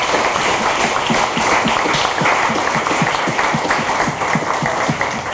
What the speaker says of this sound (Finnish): Antakaa vielä isot aplodit meidän loistaville panelisteille.